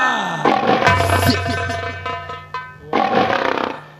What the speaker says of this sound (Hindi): ये कोई शेर की आवाज है।